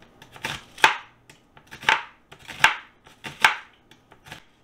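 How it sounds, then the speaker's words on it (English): A knife chops onions on a cutting board in five or so distinct, spaced strokes, each a crisp close thud with a slicing crunch, and near-silence between cuts. "I think I'll cut it this way because I don't want the onions to be too thick"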